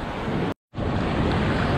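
A mountain waterfall in Himachal Pradesh roars as a loud, steady wash of rushing water close by, broken by a brief gap of silence early on.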